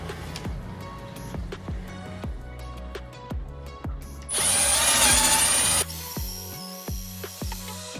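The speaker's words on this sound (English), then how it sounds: "Drill." A power drill bores holes in kitchen cabinets during a DIY makeover, a steady loud whine running for about a second and a half amid background clatter and knocking.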